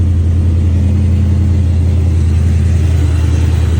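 A Hummer H2 engine sits at a steady, loud idle right after a cold start, with a low rumble and a constant whining tone over it.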